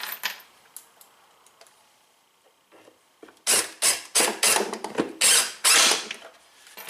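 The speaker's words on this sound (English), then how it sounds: "when I drive this screw" A screw is driven into a Duke subwoofer panel with a power driver: a quiet start with a few faint clicks, then a loud run of close, rapid ratcheting bursts as the screw pulls the panel tight.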